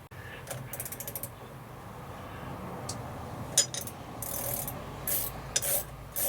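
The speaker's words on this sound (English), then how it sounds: "As I tighten this nut, it pulls the knurling tool down onto the" A nut being tightened to draw a knurling tool down onto a part while making a pin punch, giving faint, quiet ratcheting and clicking mechanical noises with a few brief louder scrapes over a low background hum.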